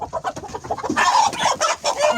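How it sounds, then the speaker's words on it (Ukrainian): Araucana rooster clucking close by in a short burst of several quick, rough calls, with no talk over it. "Оце красавчик, оце півень, він нас кукурікає, дуже гарний."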